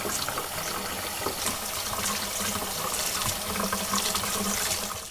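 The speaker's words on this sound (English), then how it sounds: "we're going to take our roots and rinse those off and get them nice and clean" Dandelion roots are rinsed under a running kitchen tap, a steady close splashing and gushing of water that continues without a break.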